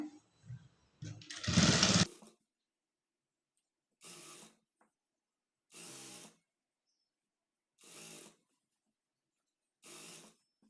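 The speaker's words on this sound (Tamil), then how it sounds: "மேலே வந்து ஒரு டாப் ஸ்டிச் வந்து போட்டுக்குங்க" A sewing machine runs a top stitch along a high-neck blouse: one longer, louder run near the start, then four short, evenly spaced bursts of stitching separated by silence.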